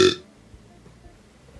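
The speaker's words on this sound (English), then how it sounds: "now I'm gonna do the biggest burp ever." A loud, brief burp from a boy who has just drunk two bottles of Coke, bursting out at the start and then fading into near silence.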